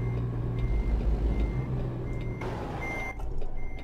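Steady, regular reversing beeps from a truck in a simulation video game sound over a low engine rumble, repeating at an even pace throughout.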